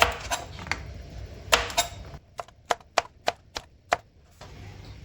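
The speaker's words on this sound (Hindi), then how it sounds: "इस तरह आपने सारी कटिंग कर लेनी है भिंडियों की" A knife slices okra on a board, first in a few loose strokes, then in a quick run of sharp, distinct taps, close and crisp with no one speaking.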